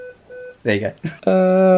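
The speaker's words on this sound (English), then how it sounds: "so if you hear beeping in the background like this" Two short, thin electronic beeps, like a low-battery warning from a screen, sound close by before someone speaks briefly and a sustained buzzing electronic tone follows.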